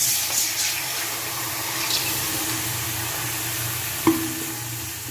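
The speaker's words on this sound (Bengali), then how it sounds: "তো আমি এতে জল দিয়ে দিচ্ছি" Water poured into hot roasted semolina for a children's dish gives a steady hissing, bubbling sizzle, with a single sharp knock near the end.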